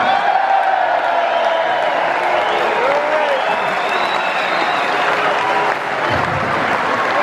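Steady crowd applause with scattered whoops and cheers fills a stage Q&A event, loud and continuous before easing slightly near the end.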